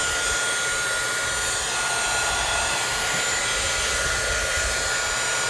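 A heat tool blows steadily and loudly over a watercolor background, a continuous whooshing hum that lasts the whole time with no talking.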